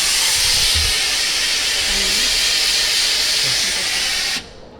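A Philips Perfect Care 8000 steam iron releases a continuous, strong vertical steam blast, a loud broadband hiss lasting several seconds before cutting off abruptly near the end.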